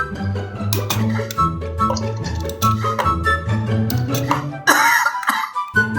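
A single sharp cough bursts out near the mic, cutting through steady background music and ambient clatter.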